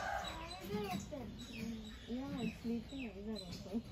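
Silver pheasants give repeated short chirping and cooing calls at a sanctuary, with several overlapping birds and bursts of speech mixed in at moderate loudness.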